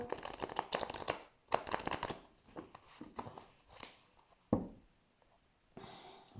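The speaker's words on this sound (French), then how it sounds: "En laissant tomber quelques cartes de plusieurs oracles" Several oracle cards riffled and dropped in quick bursts, crisp papery flutters in clusters with short pauses between, close and fairly soft, no talking.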